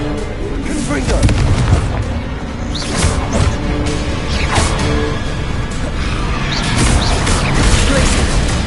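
A Confringo blasting spell goes off in Hogwarts Legacy as a dense, booming explosion with crackling debris. The rumble stays loud throughout, mixed with busy game effects and some voice sounds.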